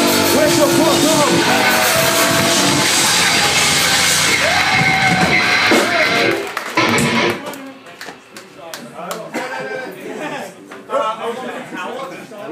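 A concert crowd at a small club show in Quebec City cheers, yells and whoops loudly for several seconds, then the noise drops off into scattered claps and shouts with a band member talking.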